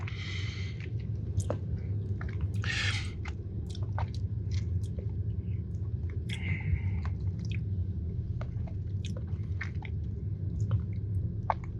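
Close, crisp bites into a chocolate chip cookie with a crunchy outside and warm gooey middle, followed by steady wet chewing and a few more crunchy bursts, with no talking.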